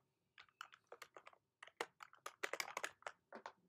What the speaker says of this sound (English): So I'm typing my password.